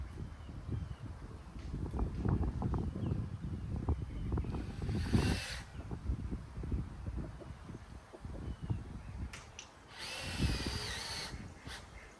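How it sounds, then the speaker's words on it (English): A power drill drives screws into a wooden duck pen box, with a loud buzzing motor in long close bursts and short pauses between screws, alongside some wind noise outdoors. "Now we need 4 screws to screw this end in."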